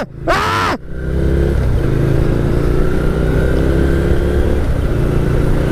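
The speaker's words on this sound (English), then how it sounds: "The airport, always all kinds of traffic around here." Traffic near an airport in Arizona fills the air with continuous engine rumble, opening with a short louder blast before settling into a steady, busy drone.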